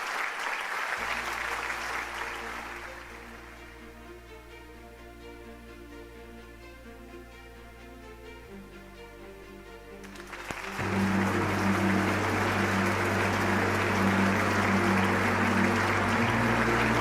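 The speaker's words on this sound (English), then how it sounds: "Let us welcome Reverend Park Young-gyu and the Venerable Dobong with a warm round of applause" Applause from a festival audience in Korea welcomes two speakers to the stage, steady clapping that eases under a held musical chord and then swells again loudly with the music.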